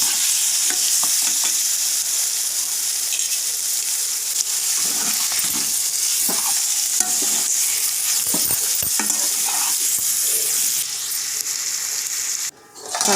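Turmeric- and salt-marinated chicken is stirred into onions in a hot pan, giving a steady loud sizzle with scraping spoon strokes throughout and a brief clatter near the end.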